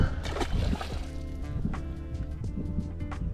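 A freshly caught June bass goes back into the water with soft, irregular splashes and sloshes close by, fading into gentle water movement.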